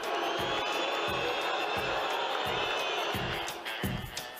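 A football stadium crowd at Vila Belmiro boos a substituted player, producing a loud, sustained roar with rhythmic low surges throughout.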